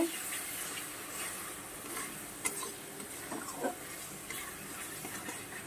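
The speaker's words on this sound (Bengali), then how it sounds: "এবার আরও সুন্দর করে কষিয়ে নেব" Small tangra fish with drumsticks and potato being sautéed in a pan make a soft, quiet sizzle with occasional spatula scrapes and light taps against the pan, close by and with no voices.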